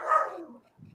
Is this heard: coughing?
no